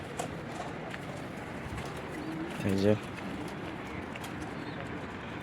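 A pigeon in a loft gives one clear coo midway through, set against a low background hiss, and a person briefly speaks.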